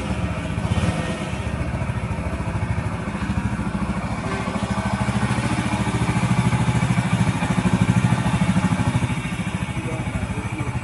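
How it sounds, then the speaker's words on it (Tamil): A rebuilt Hero Splendor motorcycle engine runs steadily after starting, a close, loud, even single-cylinder putter with a slight swell in revs, no talking. "ஃபிட் பண்ணிட்டு இப்ப இன்ஜினை ஸ்டார்ட் பண்ணி பார்க்க போறோம்."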